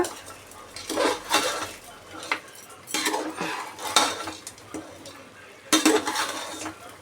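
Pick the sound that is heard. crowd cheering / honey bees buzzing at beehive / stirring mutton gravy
stirring mutton gravy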